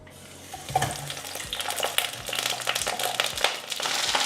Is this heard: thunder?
no